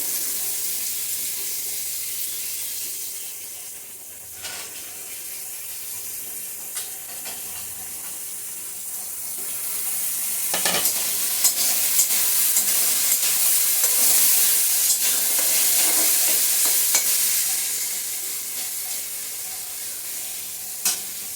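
Potatoes and carrots fry together in a pan, with a constant bright sizzle that grows louder midway, punctuated by sharp scraping stirs of the spatula against the pan.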